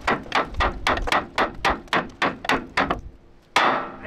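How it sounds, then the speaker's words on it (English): A heavy hammer strikes the inside of a steel bulldozer frame in a steady series of about ten loud, ringing blows, followed by a pause and one final hit. "What if we take a big hammer and hit the inside of this frame and try to get it to jar?"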